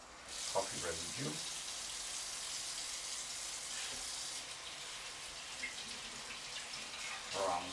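Running water rinses coffee residue from the filter of a Philips HD7880 filter coffee maker, a soft steady splashing hiss under occasional brief talk, fairly faint and close.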